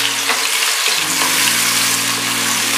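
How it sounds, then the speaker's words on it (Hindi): Finely chopped onions fry for mutton tahari pulao, giving a loud, steady, close-up hiss of sizzling oil that continues without a break. "इसे फ्राई करेंगे"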